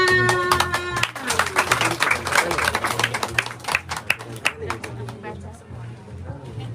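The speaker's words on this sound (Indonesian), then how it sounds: "Tepuk tangan" A group including children claps quickly by hand at a gathering with Indigenous Papuan residents, the sharp claps thinning out toward the end, with people talking underneath.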